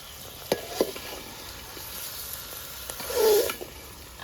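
Cumin paste and ginger paste hit hot oil in a pan for a Bengali-style mutton curry, giving a soft steady sizzle with a few sharp pops and a louder hissing surge near the end.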